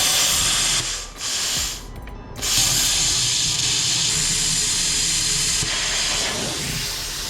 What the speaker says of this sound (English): So I'm about to just use the plasma cutter.